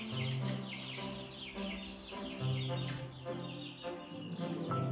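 Chicks and hens in a rabbit's pen give steady overlapping chirps and clucks, fairly close and continuous throughout, with no talking.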